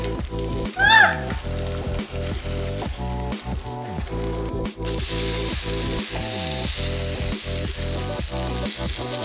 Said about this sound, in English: Just wanted to fry my figs a little bit, just because it'll just soften them and make them more juicy.